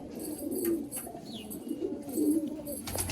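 Madrasi pigeons coo nearby in soft, repeated throaty rolls, with light fluttering and rustling around them.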